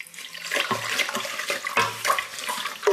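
Water poured slowly into an agar mix while it is stirred for vegan marshmallows, giving a continuous near splashing trickle broken by a few brief clinks and knocks.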